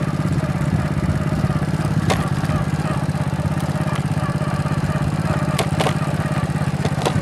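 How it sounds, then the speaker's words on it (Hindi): A motorcycle rides along a village road past harvested wheat fields, its engine a steady, loud, close throbbing drone with a constant low pulse and occasional clattering ticks throughout. "मैं मोटरसाइकिल पे हूँ"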